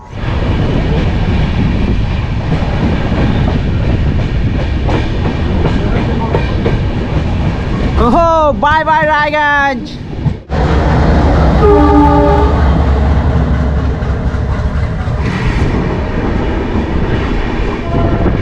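The Radhikapur–Kolkata Express departs Raiganj with a long, loud, wavering horn blast lasting a couple of seconds, set against steady rumbling train and station noise, followed by a lower, continuous tone as the train moves off. A voice speaks briefly.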